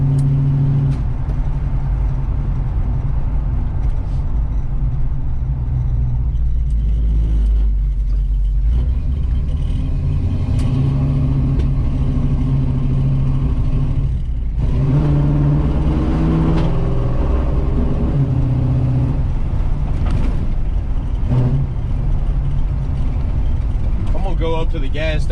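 A car's engine runs steadily while driving, a continuous loud low rumble that shifts as the engine revs up and settles back, with road noise underneath.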